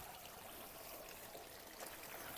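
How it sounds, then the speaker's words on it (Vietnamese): Mountain stream water runs and splashes steadily during handwashing on a hike up Mudeungsan in Korea, a faint, even rushing trickle with no talk. "Nước này là nước ở từ trong suối"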